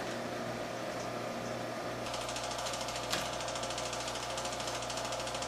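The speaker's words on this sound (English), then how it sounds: "so it looks like the pumping speed of this small pump is going to be quite slow" A small vacuum pump runs steadily for a homemade vacuum tube build, a constant mechanical drone with a low hum, and a faster rattling buzz joins partway through and continues evenly to the end.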